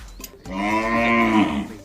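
A cow on a small cattle farm of nearly twenty head lets out one loud, close moo that swells and holds for over a second, with no talk over it.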